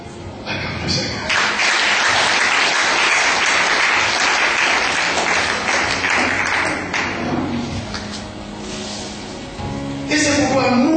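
A church congregation claps loudly and continuously in a dense burst of applause that fades after several seconds before swelling again briefly at the end.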